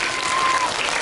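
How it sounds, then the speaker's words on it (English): Short burst of audience clapping at a primary school poetry recitation and storytelling competition, a brief, even patter of many hands. "Everyone, please have a big round of applause for her."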